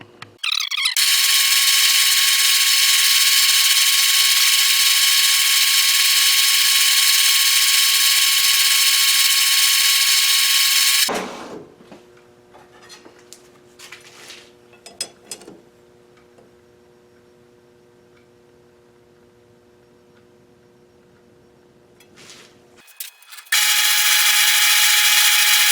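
A metal part for a camera mount being knurled on a machine, giving a loud steady high whine for about ten seconds. Then a quieter stretch of faint clicks and taps, and finally the whine starting up again.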